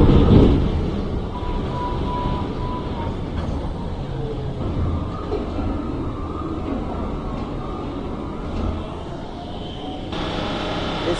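A video game subway train, an R46 on a Blue Line in Trainz, rumbles steadily along the tracks with a continuous rolling roar, and a voice speaks over the noise.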